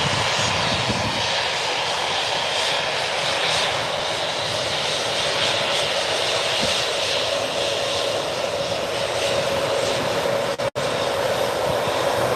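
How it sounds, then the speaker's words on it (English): Embraer jet's engines roar loudly and continuously at Birmingham airport, a steady broadband jet noise that stays close and dominant throughout, with no voices. "That's a loud Embraer, for some reason."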